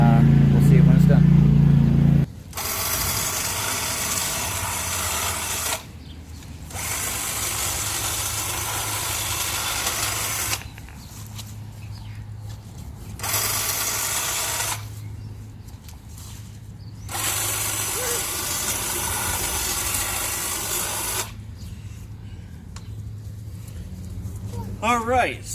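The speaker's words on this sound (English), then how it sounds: "the cordless Black & Decker 20 volt hedge trimmer on the pole is actually a really nice tool" A cordless Black & Decker 20 volt pole hedge trimmer cutting a bush runs in loud, steady bursts, starting and stopping several times with short pauses between runs.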